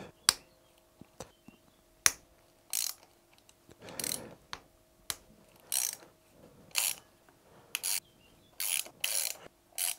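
A ratchet loosens the cylinder head bolts on a high-mileage Renault Twingo engine, giving sharp, close clicks and short rapid ratcheting bursts repeated at an uneven pace.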